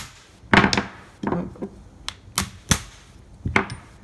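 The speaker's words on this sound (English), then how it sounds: "And we're just going to give it a light strike with a hammer." Hammer lightly striking a piston to seat the piston pin circlip during a KZ engine rebuild, several sharp metallic taps, close and clear, with quiet pauses between.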